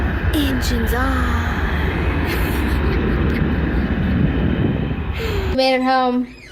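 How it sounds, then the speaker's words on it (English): An airplane landing or departing near a busy airport produces a loud continuous roar that cuts off abruptly near the end, with birds chirping clearly in the quieter moment after. "an airplane is landing or departing every 60 seconds"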